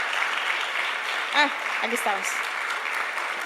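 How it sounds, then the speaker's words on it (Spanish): Steady broadband clapping from a crowd fills the clip, with a brief spoken remark partway through. "quiero que le den un aplauso"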